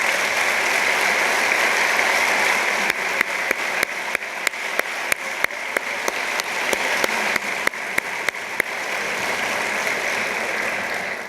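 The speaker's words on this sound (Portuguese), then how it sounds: "uma salva de palmas para os 3 bastonários ainda aqui presentes" Sustained audience applause at the centenary ceremony of the Portuguese Bar Association honouring three former bar presidents, a dense steady wash of clapping with a few sharp, distinct claps standing out in its middle stretch.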